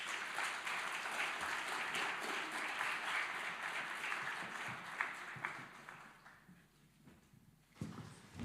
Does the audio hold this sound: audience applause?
yes